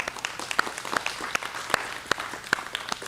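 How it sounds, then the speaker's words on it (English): Applause in a small group: a handful of scattered claps at an uneven pace, moderately close, with no talking over them. "Give him a round of applause"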